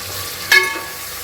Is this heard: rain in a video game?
no